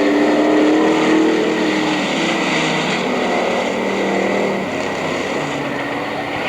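On the final lap at Mt Clemens Racetrack in 1984, race cars roar continuously around the track, a loud, sustained engine drone that shifts in pitch as they pass.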